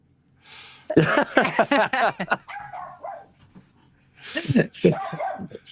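A dog barks, yips and whimpers in short close bursts, in two clusters with a pause between them, and people talk nearby.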